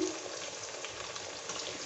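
Ground spices fry in a pan, giving a steady close sizzle that holds at an even level without a pause and with no voices over it.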